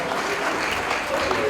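A crowd at a political gathering applauds Professor André Mbata, steady dense clapping heard in a short continuous stretch.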